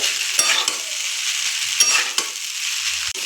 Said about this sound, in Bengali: আর একটু নেড়ে নিতে হবে